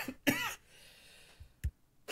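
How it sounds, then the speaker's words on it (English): A person coughs close to a microphone, two harsh coughs with a short throat-clearing catch between them, followed by another cough starting at the end, in an otherwise quiet room. "So I apologize for the coughing there."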